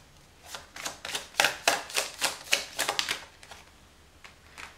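Tarot cards drawn and shuffled from a deck, a quick run of crisp papery flicks and slaps close by, about a dozen in a burst before fading to quiet.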